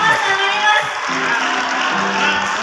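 A crowd at a school industry-class inauguration in Bekasi, West Java, claps and cheers in a steady, dense burst with whoops and shouts mixed in, fairly close and sustained, while tonal background sound runs underneath.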